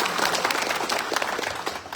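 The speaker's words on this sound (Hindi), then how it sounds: "इसके लिए वो लोग के लिए भी एक बार फिर से ताली बनता है" Meeting audience applauding in Dima Hasao, a dense steady patter of many hands clapping at moderate level for about two seconds with no voices over it.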